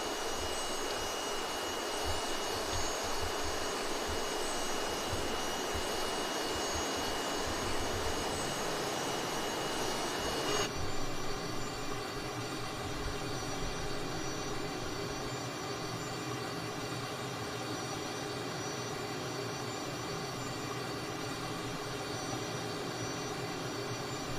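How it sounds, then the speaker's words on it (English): The twin engines of a small Tweet aircraft run hard in flight, making a loud, steady drone and whine that stays constant throughout with a slight shift in tone partway. "We are running the engines pretty hard, but they're not unhappy about it"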